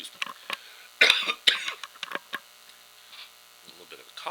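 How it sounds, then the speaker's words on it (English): A single person coughs in a short burst of sharp, close bursts with a throat-clearing quality, set against a quiet indoor room with faint mains hum and a few small ticks. "little bit of a cough there."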